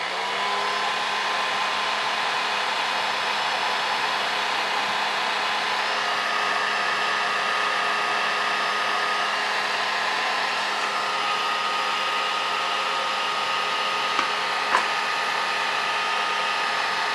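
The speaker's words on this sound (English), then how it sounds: "So be very careful with these heat guns" A heat gun blows hot air onto the ankle of a Mortal Kombat Scorpion statue. It gives a steady, loud, unbroken whooshing roar up close, with no talking.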